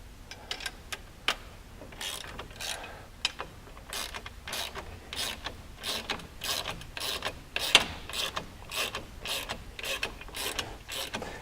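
Clamp bolts being tightened onto a Honda Talon trailing arm with a ratchet, a rapid close clicking in repeated bursts with slight creaks, no talking.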